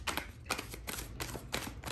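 A deck of playing cards being shuffled for a reading, giving bursts of papery riffling and flicking that repeat several times in quick succession, close and fairly quiet, with no voices.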